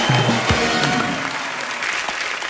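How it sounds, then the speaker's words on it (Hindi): Studio audience applause on a TV comedy talk show, rising after a brief low voice at the start, steady clapping continuing throughout. "जोरदार तालियां हो जाए।"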